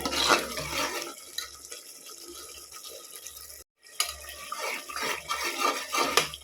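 Spice powder stirred and sautéed in a pan for tomato rice, with steady scraping, sizzling and moist clatter close up, briefly pausing before stirring resumes.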